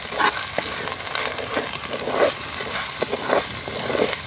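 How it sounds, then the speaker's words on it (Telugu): Steady oily sizzle of ginger, garlic, poppy seed and dry coconut masala paste frying in a pan, with soft scraping stirs recurring at a gentle rhythm, close and continuous. "మసాలా అంతా పచ్చి వాసన లేకుండా బాగా ఫ్రై చేసుకుందాం"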